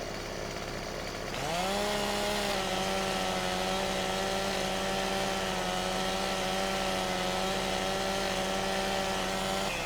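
A chainsaw in Farming Simulator 17 cuts a giant tree blocking a road, revving up after a quiet start into a loud, steady, sustained engine whine that holds to the end.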